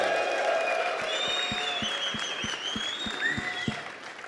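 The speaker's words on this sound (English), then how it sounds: "So I want you to make some noise if you're having fun." An event crowd cheers and claps loudly, with high whoops and shouted voices drifting over a continuous clapping bed, while a regular low thumping beat pulses underneath throughout.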